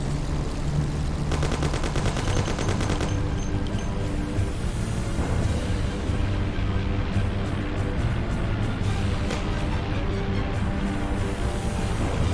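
Gunfire in the Mafia video game, bursts of rapid shots over a constant rumbling engine and driving noise, a dense machine-gun rattle early on and scattered shots later, loud and busy.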